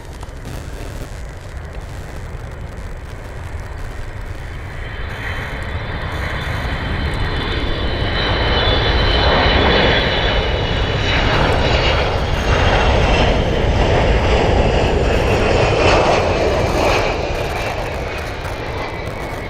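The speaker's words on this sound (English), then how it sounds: "Hobo KC-135 just coming in" A Boeing KC-135 jet comes in to land at RAF Mildenhall, a loud, rumbling jet roar that swells steadily as it nears, peaks with a broad rushing whine, then eases slightly, heard alone in open air.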